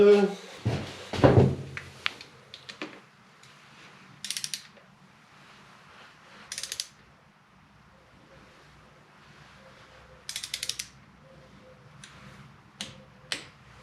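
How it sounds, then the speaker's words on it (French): A torque wrench tightens screws on a KTM motorcycle during maintenance, giving a few short ratcheting click bursts spaced several seconds apart after a brief burst of voice and handling noise at the start. "Et maintenant on va tenter de serrer ça au couple."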